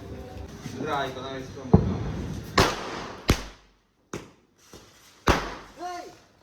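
Several sharp, loud bangs of firecrackers go off one after another with pauses between, while voices talk and call out.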